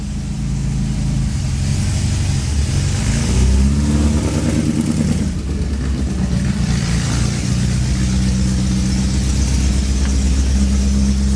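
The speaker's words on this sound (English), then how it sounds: "That truck sounds funny. Sounds like a Volkswagen." A 1946 Ford truck engine runs steadily up close, a low rumbling idle with a brief rev in the middle, loud and continuous, sounding somewhat uneven.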